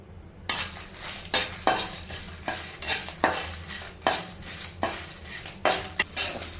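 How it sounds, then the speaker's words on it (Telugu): Urad dal, coriander seeds and dried red chillies are dry-roasted in a pan as a spatula scrapes and stirs in a regular rhythm, about ten quick metallic strokes with a light rattle of the grains. "జస్ట్ 1 స్పూన్ మినపప్పు, ధనియాలు, మిరపకాయలు వేసి వేయించుకోవాలి."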